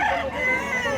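A gamecock for sale at a rural Cebu spot crows, one sustained harmonic call filling the whole moment, fairly loud and close, with faint background voices.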